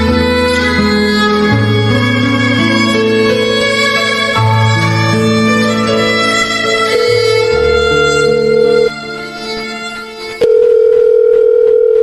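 Loud, steady telephone tone from a cellphone call drones for several seconds with layered tonal lines, dips briefly, then resumes as a single sustained tone.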